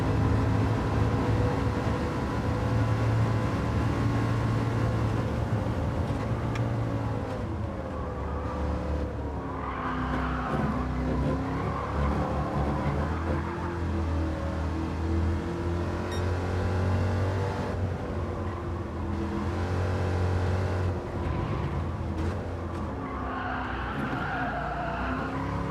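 A muscle car with a four-gear gearbox races in American Muscle Racing. Its engine drones steadily, rising and falling in pitch through the gear changes, with tyre noise throughout.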